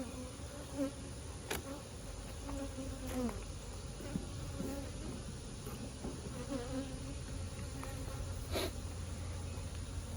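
Honey bees buzz and fly around an open hive during a mite and beetle treatment, making a steady, faint drone with individual bees passing close by now and then.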